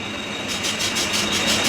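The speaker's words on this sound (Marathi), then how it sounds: "ट्रेन आली आहे" A train roars in close by, a loud steady rushing noise with a rhythmic pulsing hiss, no voices.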